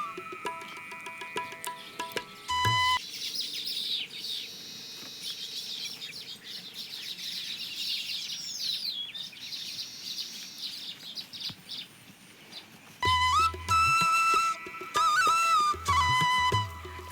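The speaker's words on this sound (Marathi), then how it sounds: "चिमण्याचा लई किलबिलाट आहे इथं" Sparrows chirp busily around their nests, a dense stream of high twittering calls throughout, with louder close bursts of chatter near the start and again toward the end.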